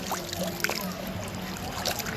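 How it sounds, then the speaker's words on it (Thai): Cold water released from a dam rushes strongly through a stream below it, making a steady, close, broadband gushing roar that continues unbroken with no voices. "น้ำไหลแรงนะครับ"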